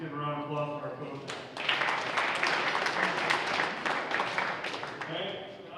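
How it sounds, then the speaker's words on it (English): Audience applause breaks out at a high school football banquet for the coaches, a dense wash of clapping that rises after a voice and holds steadily, fading as talk resumes. "Let's give a round of applause for our coaches."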